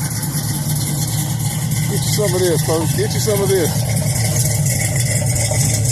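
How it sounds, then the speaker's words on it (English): A 1972 Chevy Nova engine idles with a steady low rumble throughout, while someone talks briefly over it. "Listen to that idle, folks. Listen to that engine."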